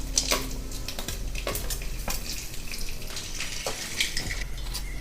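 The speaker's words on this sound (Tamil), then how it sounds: "இப்போ தாளிக்கு எடுத்து வச்சிருந்த பட்டை, கிராம்பு, பூவு, பிரிஞ்சி இலை எல்லாத்தையும் போட்டுடலாம்." Whole spices, cinnamon, cloves, star anise and a bay leaf, frying in hot oil for an egg kurma, giving a steady close sizzle and crackle with a few sharper pops and stirring clinks.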